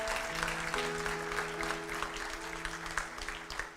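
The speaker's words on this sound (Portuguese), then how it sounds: "Palmas para Jesus." A church congregation applauds for Jesus, a dense, steady patter of many hands lasting a few seconds, with sustained keyboard or organ tones held beneath the clapping.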